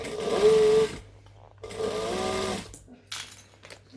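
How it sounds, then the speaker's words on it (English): A sewing machine stitches around a three-dimensional fabric piece in two steady bursts of about a second each, close and clear, with short pauses and light handling between runs. "I'm going to stitch all the way around"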